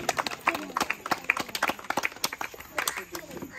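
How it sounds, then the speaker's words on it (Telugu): An audience claps to encourage a girl receiving a prize at a Sankranti rangoli competition event, with irregular bursts of applause mixed with a speaking voice. "గట్టిగా క్లాప్స్ కొట్టి అమ్మాయిని ఎంకరేజ్ చేస్తాం మనం"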